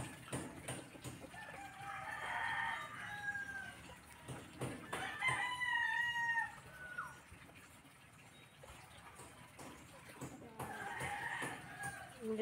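Chickens crow and cluck in a rural backyard garden: roosters let out several drawn-out crows and hens cluck around them at moderate distance, with steady outdoor background noise.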